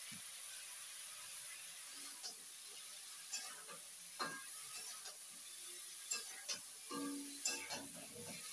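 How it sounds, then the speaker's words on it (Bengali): Potatoes and cauliflower sizzle steadily while frying, with a spatula scraping and knocking at intervals as they are stirred. The bursts of stirring are fairly close and sound alone, with no talking. "আলু আর ফুলকপিটা আমার খুব সুন্দর করে ভাজা হয়ে গেছে"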